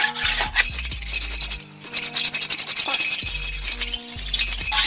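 An engine block's deck surface, dirty and with broken studs, being scraped clean by hand: steady close rasping and rubbing strokes in a quick repeated rhythm, loud and without talk.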